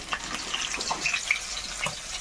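Pieces of boal fish sizzle and crackle in hot oil in a frying pan as more are dropped in, a steady close frying hiss with small spattering pops throughout, no voices.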